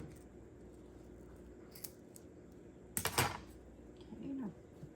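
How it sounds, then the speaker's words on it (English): Scissors snipping a tag off a Dollar Tree item, a quiet cluster of short crisp cuts with faint rustling and a soft handling noise afterward. "I'm going to cut this tag off the back."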